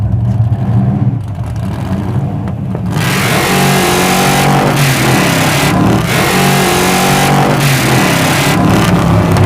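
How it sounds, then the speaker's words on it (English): A Hemi-powered car doing a tire burnout, engine roaring steadily under heavy load with a continuous hiss of spinning, screeching tires, very loud and close throughout after a brief quieter start. "All right, good burnout."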